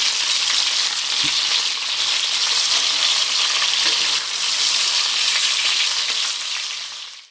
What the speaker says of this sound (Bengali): আরও এক পিঠ আমি ভেজে নেব।